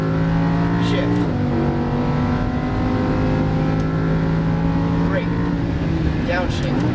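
A Lamborghini Huracan LP610-4 engine roars loudly and steadily on a racetrack, its pitch dropping sharply through a gear shift and climbing again, with an instructor talking over the continuous drone.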